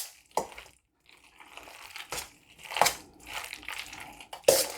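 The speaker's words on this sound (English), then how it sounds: "Then we're just going to stir this up in there" Sour cream is stirred into macaroni and cheese, with sticky squelching and scraping strokes of a spoon coming in separate bursts between brief quiet gaps.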